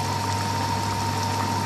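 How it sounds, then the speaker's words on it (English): Water pours steadily into a pot of potato and fish curry, a continuous close splashing stream lasting a couple of seconds, faint and uninterrupted. "boil some water and just put some water in there"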